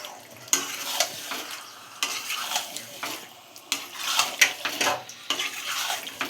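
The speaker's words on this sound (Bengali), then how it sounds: "মাংসটা দিয়ে ভালো করে কষবো" Meat being stirred and fried in a pan: a spatula scrapes and clinks against the metal in an irregular rhythm over a steady sizzle, close and moderately loud, with no talk.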